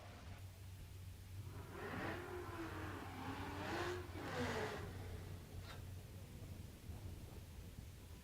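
A 1979 pace car Fox body Mustang with a four-cylinder engine, the Pinto-based 2.3 liter, runs a drag strip pass, its engine rising and falling through a steady roar over a low constant drone, distant and noisy.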